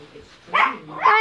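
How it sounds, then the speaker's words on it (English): A dog barks twice in short, loud bursts close by, the second bark longer and higher, with a low voice talking faintly beneath. "Why is your dog barking, TT?"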